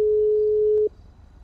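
A phone busy tone in GTA V plays as a single steady electronic beep lasting just under a second, clean and clear, then cuts off to quiet background hiss.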